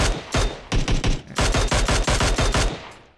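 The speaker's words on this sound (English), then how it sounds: "this is me getting shot by someone I think is a bot" Loud, close rapid gunfire strikes the player in PUBG Mobile: a steady run of sharp cracks forms a couple of fast volleys with one brief pause between them and nothing else heard.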